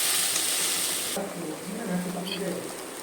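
Ground tomato paste and spices sizzling in a pan for an egg gravy, a steady loud frying hiss that softens partway through into a gentler bubbling simmer, close up.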